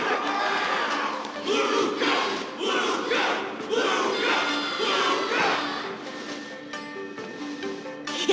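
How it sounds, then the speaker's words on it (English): A stadium crowd in the Honkai Star Rail battle against Yanqing shouts and cheers in a sustained roar that swells in rhythmic surges, with a sharper thump just at the end. "Everyone's cheering for you"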